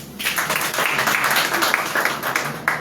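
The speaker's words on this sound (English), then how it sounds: "a round of applause" A summit audience claps after a speaker finishes, close and lively applause with distinct individual claps standing out, swelling quickly and holding at a fairly loud level for a few seconds.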